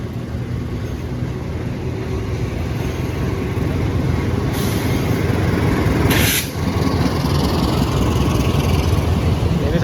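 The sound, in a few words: Cikuray train passing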